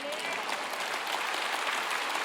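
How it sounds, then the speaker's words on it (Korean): A church congregation breaks into applause during a sermon, a dense, steady patter of many hands clapping at moderate distance with no break for the whole short stretch. "또 이런 말을 하면 또 박수 치시네 또"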